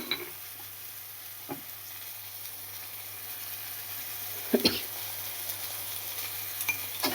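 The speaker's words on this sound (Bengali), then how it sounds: "নুনটা দিয়ে খানিক্ষণ আবার একটুনি নেড়ে নেব" A mashed jackfruit mixture with salt is stirred in a frying pan: a steady, soft sizzle with scraping strokes and occasional utensil taps against the pan, heard close and alone.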